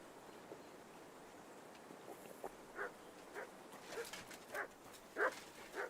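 Dog barking and whimpering in Kingdom Come: Deliverance II, a medieval setting: a run of short yips and barks grows louder and quicker toward the end over a quiet background.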